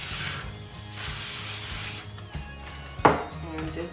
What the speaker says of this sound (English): I am going to start out by spraying this aluminum pan with some Pam